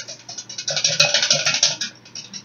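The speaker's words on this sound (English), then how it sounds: "whisk the egg whites vigorously until it becomes foamy" Egg whites whisked vigorously by hand in a bowl for French macarons, a fast steady rhythmic scraping and clicking of the whisk, close and fairly loud, with no talk.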